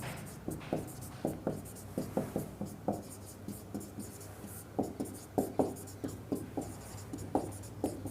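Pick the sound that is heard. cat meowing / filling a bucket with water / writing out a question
writing out a question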